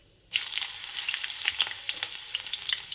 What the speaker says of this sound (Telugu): ఒక కప్పు ఉల్లిపాయలు ఈ విధంగా బ్రౌన్ కలర్ వచ్చే వరకు వేయించుకోవాలి